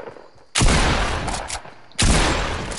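Two long, loud bursts of video game gunfire during a match, each starting abruptly and roaring steadily with a brief gap between them.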